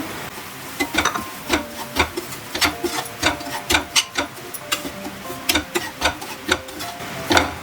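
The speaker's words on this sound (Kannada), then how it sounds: "ಇವಾಗ ಇದೇ ತುಪ್ಪಕ್ಕೇ ನಾನು ರವೆ ಹಾಕ್ಕೊಂಡು ಹುರ್ಕೊತೀನಿ" Semolina is roasted in ghee in a pan for pineapple kesari bath, stirred with a spoon in quick, rhythmic scraping strokes, close and clear over a light sizzle, with no talking.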